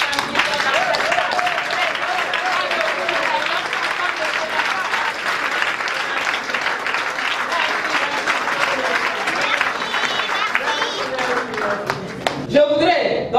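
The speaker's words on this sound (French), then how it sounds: "demander à tous les hommes de se lever pour applaudir chaleureusement les femmes qui sont dans cette salle" An audience in a hall at an investiture ceremony of the FIAD bureau in Togo applauds warmly and continuously, a dense sustained clapping that swells slightly near the end.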